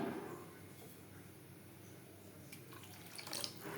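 Water runs into a simmering Bengali-style egg curry gravy, a faint, steady watery trickle that continues throughout, with a few light taps near the end.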